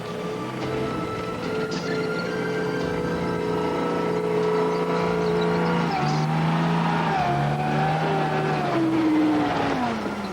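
A heavy tracked Abbott self-propelled gun drives through a quarry, its engine droning loudly and continuously with shifting pitch as it labours and accelerates, close by.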